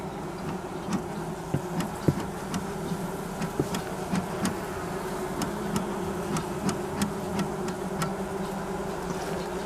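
Honeybees being driven with smoke into their winter nest inside a hive, a steady dense buzzing hum close by with scattered soft clicks and taps.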